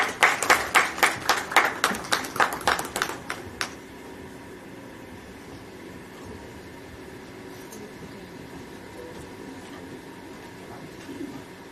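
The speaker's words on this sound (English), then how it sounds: "Ladies and gentlemen, please give a huge round of applause." About a dozen quick, evenly spaced claps from an audience at a national engineering convention for a few seconds, then they stop and only a quiet room hum remains.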